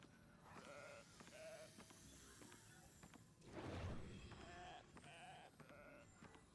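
A goat in the Heroes of the Storm video game bleats repeatedly in short, nasal, wavering calls at a regular rhythm, with a brief louder burst of noise midway, fairly faint overall.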